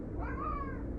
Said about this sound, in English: My cat is trying to get into the closet.